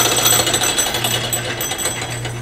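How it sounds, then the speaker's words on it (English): A loose knob on a wood lathe rattles in a fast, buzzing mechanical chatter over a steady motor hum while a bottle stopper spins, loud and close, continuous for a couple of seconds with no voices. "The rattling as this knob is loose down here."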